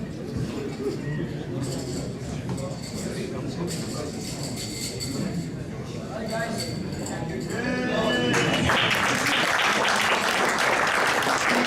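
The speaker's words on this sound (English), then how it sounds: "give them another big round of applause" Sustained applause from an audience at a cricket banquet, with people talking over it, swelling louder and denser toward the end.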